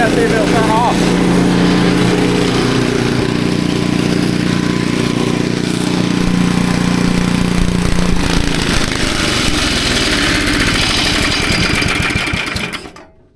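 A revived free brush cutter's small two-stroke engine runs steadily and loudly nearby with the choke on, its buzzing drone holding throughout before cutting off abruptly at the end.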